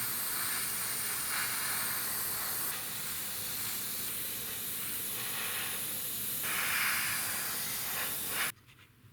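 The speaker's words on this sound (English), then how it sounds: "So now the old trick of mist coat of Mr. Leveling Thinner." Mr. Leveling Thinner sprayed as a fine mist coat onto plastic model parts for a B-17 kit, a continuous soft airbrush hiss with slight changes in pressure, cutting off abruptly near the end.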